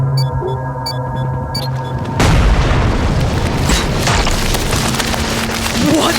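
A loud, sustained explosion effect from a radio drama erupts about two seconds in, a deep rumbling roar that fills the rest of the stretch after a quieter electronic hum.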